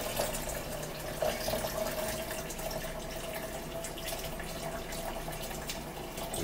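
Running tap water rinsing conditioner out of hair, a steady hissing stream with faint splashing and a thin whine, continuous and moderately quiet with no speech.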